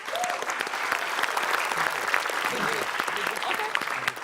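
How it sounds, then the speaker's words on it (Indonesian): Studio audience applause on an Indonesian comedy game show, a continuous wash of clapping with voices talking over it. "Kita kasih tepuk tangan dulu."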